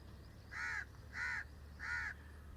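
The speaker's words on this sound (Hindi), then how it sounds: "ये परिंदे, ये देखें, ये देखें, ये देखें, वो रहा कौवा।" A crow gives three evenly spaced caws, each about a quarter second long, heard clearly outdoors over a low steady background hum.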